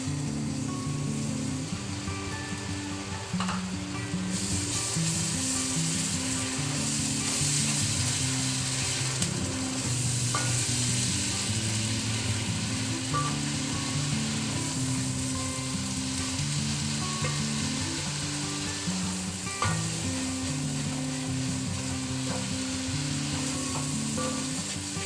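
Steady, dense sizzling of garlic-ginger paste frying in a hot pan, continuous and close, with faint clinks and scrapes of stirring throughout.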